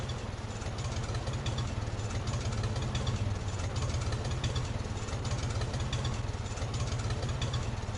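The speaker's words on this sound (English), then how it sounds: "Hey, that tractor sounds kind of cool." A tractor engine idles steadily in Farming Simulator 25, a low, even rumble with a faint knocking pulse that holds constant and close throughout, with no throttle changes.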